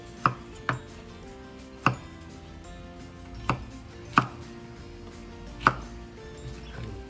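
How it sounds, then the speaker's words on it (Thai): A knife chops garlic on a cutting board in sharp, separate thuds, about seven strikes at an uneven pace, close and clear against a quiet room. "นี่เราจะหั่นกระเทียมนะครับอันนี้"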